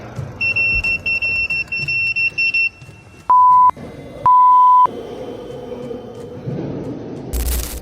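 Electronic alarms go off at the Louvre during a heist: a rapid pulsing high beep, then two loud sustained lower tones, followed by a rumbling background, close and harsh.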